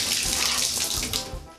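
A repaired bathroom faucet runs steadily, its close, continuous water stream splashing into the sink basin without a break for the whole short stretch.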